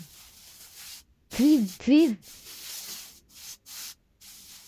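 Hand sprayer misting bags in a small mushroom farm, short hissing bursts between spoken words, close and fairly loud.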